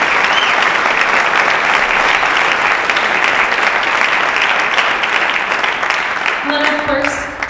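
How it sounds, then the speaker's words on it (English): Loud, dense audience applause fills a hall at a University of Dubuque high school honor band event, a sustained wash of clapping that thins near the end as a voice begins over it. "Could we give them a round of applause?"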